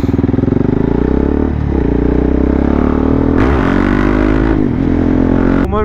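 A new motorcycle engine revs loudly up close, with a throaty rising and falling note, a couple of sharp blips and some mechanical clatter, and no voices.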